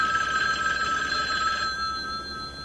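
A telephone bell rings steadily and close, a bright electronic trill that holds for most of the moment and then fades out.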